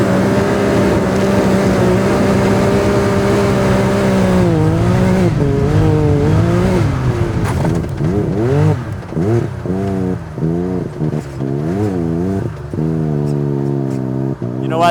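A BMW X3 fitted with an MBRP exhaust system runs with a steady, loud exhaust drone. The revs swell and dip repeatedly, getting more agitated toward the end.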